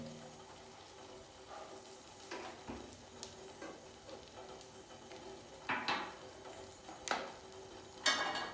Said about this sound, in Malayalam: ഇതാ കടുക് പൊട്ടാൻ തുടങ്ങി. കടുക് പൊട്ടുമ്പോൾ നല്ല ശബ്ദമൊക്കെ ഇല്ലേ?